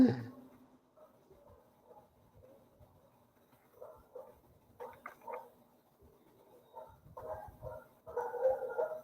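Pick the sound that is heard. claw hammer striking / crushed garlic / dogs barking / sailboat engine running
dogs barking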